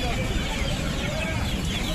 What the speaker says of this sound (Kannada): ಇದು ನಾಟಿ ಕೋಳಿ.